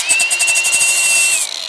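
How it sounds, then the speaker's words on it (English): Sanding disc on a power tool scuffing a custom Honda Civic trailing arm: a loud, close, high steady whine with rapid rhythmic scratching pulses, dropping off at the end. "Sanding disc real quick"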